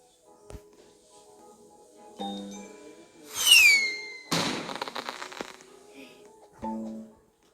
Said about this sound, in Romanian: Eu tot am artificii.